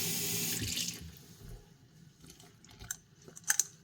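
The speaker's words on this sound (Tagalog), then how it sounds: "So maglalagay tayo ng ice water." Ice water being poured into a bowl while calamari is prepared in a home kitchen, a splashing, running-water sound that fades after the first second, followed by a few faint clinks and small crunchy handling noises.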